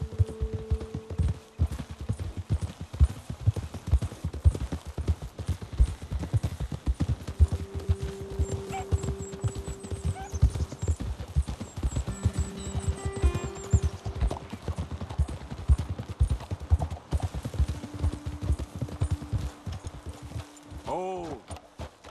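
Horses' hooves clip-clop steadily while riding in the Red Dead Redemption 2 video game, a continuous rhythmic patter under game music and talk, with a brief whinny-like sound near the end.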